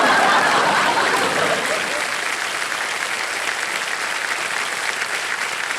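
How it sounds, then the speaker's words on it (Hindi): Studio audience applause on a game show, a dense, loud clapping that peaks at the start and then carries on steadily while slightly thinning, with faint laughter mixed in. "बहुत जोरदार तालियां इनके लिए, जोरदार तालियां"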